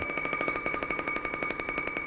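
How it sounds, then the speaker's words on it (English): A rapid, high-pitched electronic low-air alarm from an MSA G1 breathing apparatus pulses steadily, around ten beeps per second, loud and close, with nothing else audible. "Once the low air alarm activates, that signifies your bottle's at 1/3 filled"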